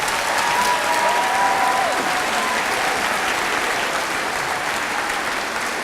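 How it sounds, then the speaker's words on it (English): Sustained audience applause for fifth grade orchestra students at a school spring orchestra concert, a dense steady wash of many hands clapping at even loudness throughout, with no speech over it. "Can we have one more round of applause for our amazing fifth graders?"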